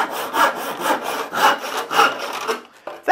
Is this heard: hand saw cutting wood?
yes